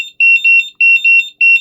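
A TD610 Pro touch-screen 6S LiPo charger sounds its charge-complete alarm: a loud, shrill electronic tone pulsing in quick repeated bursts of two or three beeps with short gaps, alone and close.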